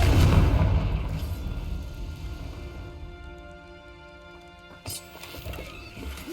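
A Confringo fire spell explodes in Hogwarts Legacy, a loud low boom at the start that rumbles and fades over several seconds, with a sharp smaller impact near the end.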